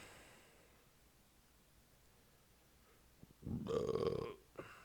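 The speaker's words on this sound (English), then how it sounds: "I burp a lot." A single loud, drawn-out burp erupts near the end after a long quiet stretch of faint room noise, followed by a short softer sound, with no talk.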